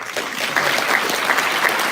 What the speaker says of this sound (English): can you please give a massive round of applause to